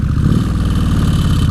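A 2003 Kawasaki Vulcan VN1600 Classic fuel-injected cruiser motorcycle in first gear gives a steady, loud, close low engine rumble with a throbbing pulse throughout.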